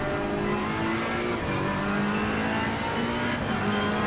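Race car lapping Zandvoort in the video game Assetto Corsa Competizione, its engine droning loud and steady through braking into the chicane over the curbs, with faint tire noise underneath and no talk.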